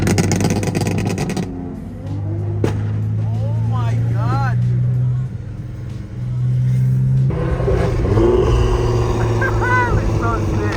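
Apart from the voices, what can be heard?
BMW G80 M3 driving and accelerating past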